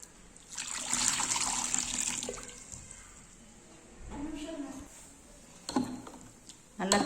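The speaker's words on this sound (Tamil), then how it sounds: "தண்ணி சேர்த்துக்கலாம்." Water is poured into a tamarind mixture for Tamil sangara fish curry, a bright close pouring rush lasting a couple of seconds, followed by quieter trickles and small liquid stirs.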